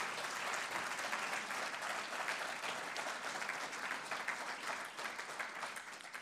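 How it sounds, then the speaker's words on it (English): A lecture audience applauds, a dense, sustained patter of clapping that holds steady for several seconds. "I'd like you to give a round of applause for that contribution."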